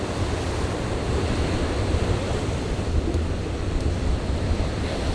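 Big ocean waves surge and break against shoreline rocks on a beach in Guam, forming a continuous heavy wash with wind buffeting the microphone and no voices.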